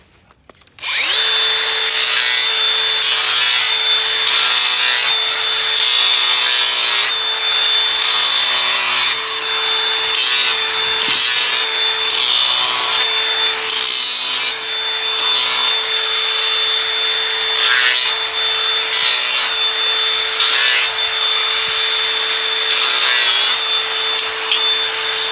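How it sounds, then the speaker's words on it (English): A power grinder bevels the hoof walls of a horse named Empress during a front trim, giving a loud, steady, close abrasive whine that runs almost without a break. "touch up her hoof walls with the grinder to get the bevel correct from the underside"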